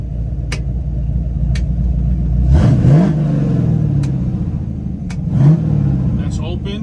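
A 1964 Chevrolet Chevelle Malibu revs up close with its exhaust closed: a loud, low idle rumble broken by two sharp revs, one in the middle and a shorter one near the end, each dropping back to a steady idle.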